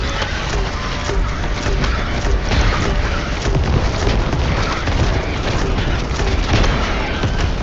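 A tower is blown up in the video game Starship Troopers Extermination: a loud, sustained rumble of explosive blasts, with splintering and crushing debris churning throughout.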